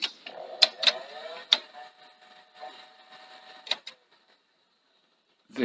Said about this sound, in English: It's not clunking, but like doing a nice clean click, clunk when it's activating.